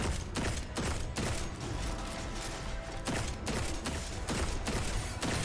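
Scout rifle gunfire in Destiny 2, a dense run of sharp shots in a loud, steady barrage with repeated bursts over a busy game-combat background.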